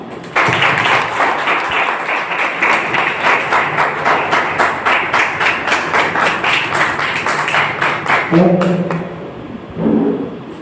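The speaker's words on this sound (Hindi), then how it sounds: "जोरदार तालियों से स्वागत करें मिस्टर दीपक सर का" Audience at a wellness company venue program clapping to welcome a speaker, a loud rhythmic burst of applause that holds steady before fading out near the end, followed by a brief voice.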